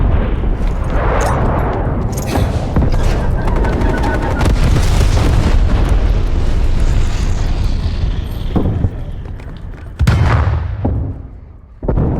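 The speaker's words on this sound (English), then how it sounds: "TACOM, deploy napalm strike" Napalm strike explosions in Black Ops Cold War, a loud roaring barrage of blasts and crackling fire mixed with gunfire, ending in a sharp booming hit and a fading rumble.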